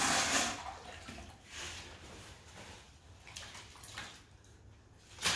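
Clean water is poured over a hazy composite car headlight during a cleaning fix, a steady broadband splash and wash running throughout, swelling and easing in a few surges, with no voices.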